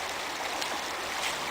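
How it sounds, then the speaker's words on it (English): Coal Creek rushes along a hiking trail on its way to Lake Washington, a steady broadband wash of flowing water close by with no voices. "The creek will be continuing on its way to Lake Washington."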